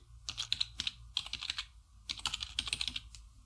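Typing on a computer keyboard while entering text in a programming software workspace, with rapid clusters of close, crisp key clicks separated by short pauses and no talking.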